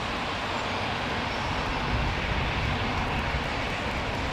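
A jet airliner with an all-new carbon wing passes at London Heathrow Airport, a steady broadband engine roar that stays loud and even throughout.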